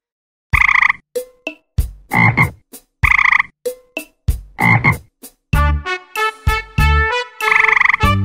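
A frog croaks over and over in a Romanian children's song, loud and close, with short sharp bursts in a bouncy rhythm that gives way to a denser musical passage near the end.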